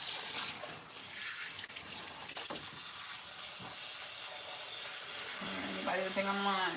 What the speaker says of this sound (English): And I'm rinsing this in cold water too.